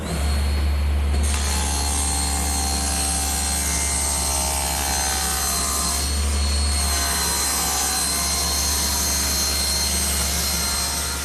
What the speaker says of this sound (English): I'll rip those out of a piece of decking, 1 inch wide and 1/4 inch thick